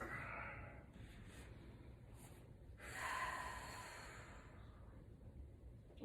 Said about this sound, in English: Let's all take an inhale together and exhale through the nose.